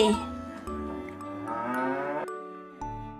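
A cow standing with its calf gives a long, drawn-out moo that rises and falls, fairly faint and heard alone over a soft tonal background, ending abruptly.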